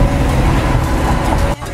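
Heavy spring break traffic crawling along a Miami causeway toward the beach, a dense, steady roar of car and bus engines close by that cuts off abruptly near the end.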